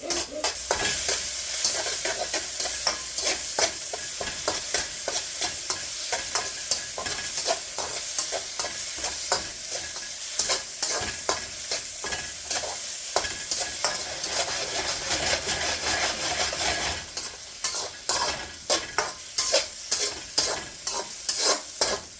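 Shallots and fried rice ingredients are stir-fried in a hot pan, sizzling constantly under rapid, rhythmic scraping and tossing strokes that grow more distinct toward the end.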